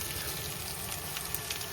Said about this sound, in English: Now I've put it in the frying pan.